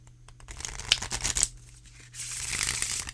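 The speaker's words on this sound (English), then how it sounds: "So let's take a moment and do a shuffle." A deck of oracle cards being shuffled by hand, with soft riffling and flicking bursts at close range, followed by a steadier papery rustle, all quiet with no talking.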